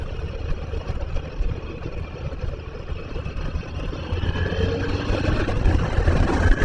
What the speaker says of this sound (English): one of the neat things about this bike is you can actually hear it running most of the time